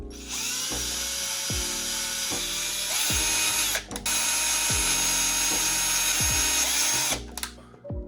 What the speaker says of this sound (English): I'm just keep drilling holes along